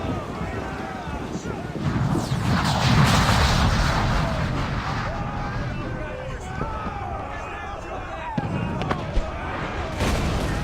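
Ship cannons firing during a naval battle in Assassin's Creed 4 Black Flag, heavy booming blasts rolling over wind and sea noise, with shouting voices mixed in.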